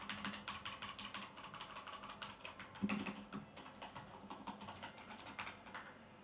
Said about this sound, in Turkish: Sesler, klavyenin sesleri bu şekilde.